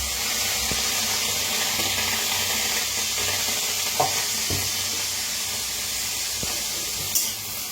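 Washed cluster beans dry roasting in a pan as they are stirred, a constant close sizzle and hiss with a few sharp clicks and taps from the pan.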